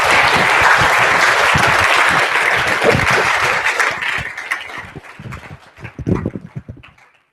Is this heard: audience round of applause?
yes